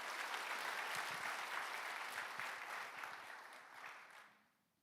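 Audience applause at a church gathering, a dense, even wash of many hands clapping that holds steady and then fades out near the end.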